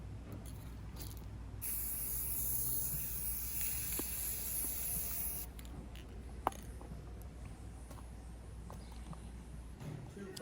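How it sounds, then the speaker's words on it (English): An aerosol can of white spray paint hisses in a steady continuous stream over a chair during pad repair, close and even, with brief pauses and a few small knocks and handling sounds. "I like to spray paint the entire thing just so that the entire white matches"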